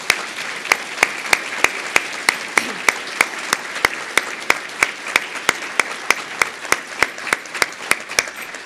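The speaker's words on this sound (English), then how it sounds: "Let's give all of our winners another round of applause." Applause for award winners at the 2019 CEC special education awards ceremony, but the picture shows a steady series of sharp, evenly spaced claps, closer to one person's rhythmic clapping than a full crowd's ovation, running alone throughout.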